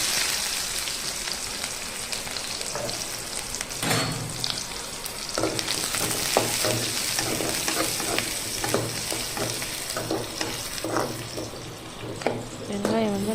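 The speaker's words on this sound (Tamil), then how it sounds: "இப்போ நறுக்கி வச்சு வெங்காயம் தக்காளியை இதை போட்டுடலாம்." Chopped onions and tomatoes hit hot oil in a pan for a Tamil-style chicken curry, giving a loud continuous sizzle and crackle with occasional stirring clatter from a spoon.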